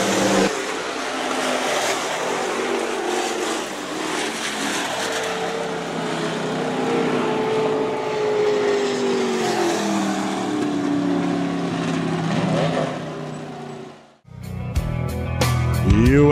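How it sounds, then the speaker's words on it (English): USRA B-Modified race cars at a speedway, a loud continuous engine roar that swells and fades as the pack passes, then cuts off abruptly near the end into a different, rattling sound. "USRA B-Modifieds heat race number 4, fourth and final heat race, coming to the green flag."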